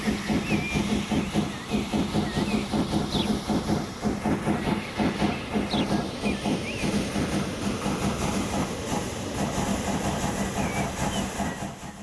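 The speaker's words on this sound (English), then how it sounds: "Let's have a look at our new locomotive as it goes on its way." Steam locomotive in Transport Fever 2 chuffing along under a constant hiss, rhythmic steady exhaust beats running the whole time with faint whistle-like chirps over it.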